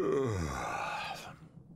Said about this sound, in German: Er gähnt tatsächlich.